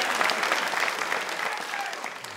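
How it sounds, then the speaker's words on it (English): Live comedy show audience breaks into steady applause, a dense wash of many hands clapping close and fairly loud for a couple of seconds with no talk over it. "Give me a clap if you have."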